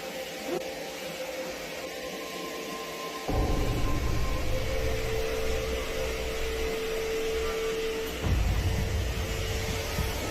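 A vacuum cleaner on a hallway carpet drones steadily, getting louder and rougher partway through as the motor note shifts, with a thin tone running across it.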